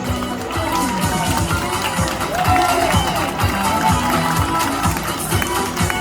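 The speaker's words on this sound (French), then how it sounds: "je vous demande d'applaudir Elisabeth" A crowd at a vintage pin-up contest in Berre claps and cheers for a candidate. The clapping is steady and dense and mixes with crowd murmur and scattered voices throughout.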